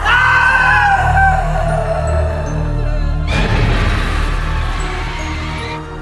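Loud, sustained yelling and screaming from a mother and father, harsh and continuous, with a sudden shift midway to a noisier, broader roar.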